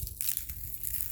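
A strip of tape peeled off a fabric purse during sewing, a short crisp crackling rip lasting about a second, close and fairly loud with no talk.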